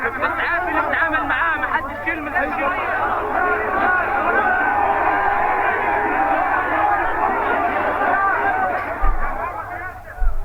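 Dense crowd chatter and hubbub in Gaza, many voices overlapping at steady loudness throughout, with a couple of brief thumps near the end.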